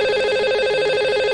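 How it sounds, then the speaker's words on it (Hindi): A telephone line rings out to a lucky caller on a live call-in show, a steady electronic tone with stacked harmonics holding loud and continuous throughout, with no voices. "तो लगाते हैं इन्हें अब कॉल और करते हैं इनसे बात"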